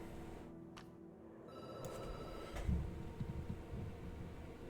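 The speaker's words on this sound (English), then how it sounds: "The phone rings and you're up." A telephone rings inside a video game, its electronic bell sounding in a few short bursts over a low ambient background with no talking.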